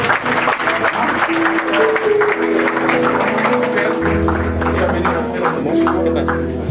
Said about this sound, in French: On acclame le Seigneur pour leur vie,